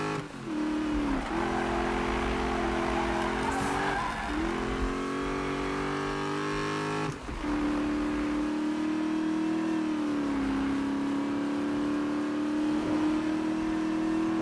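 Car engine in Need for Speed held at high revs while drifting, a loud continuous whine that sags and climbs through the slides, with a brief break mid-run and no voices.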